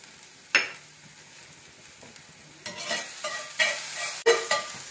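Red onions and garlic sauté in olive oil in a pan, a faint sizzle under scattered scraping stirs and a few clinks of a utensil against the pan, close by with no talk.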